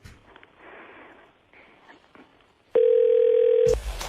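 A steady telephone line tone cuts in loudly partway through a live radio show and holds for about a second before ending abruptly, after faint breathy sounds and low voices.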